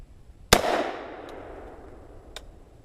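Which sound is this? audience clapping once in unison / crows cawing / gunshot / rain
gunshot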